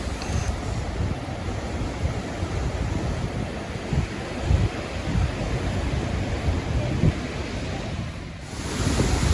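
Ocean surf rumbles continuously along the coast at Waterfall Bluff on South Africa's Wild Coast while wind buffets the microphone, a steady roaring wash with no voices.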